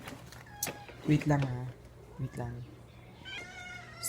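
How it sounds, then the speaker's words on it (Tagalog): A hungry house cat meows several times, close by and fairly loud, with a longer drawn-out call near the end, while someone speaks briefly over the cries. "Ingay ng pusa."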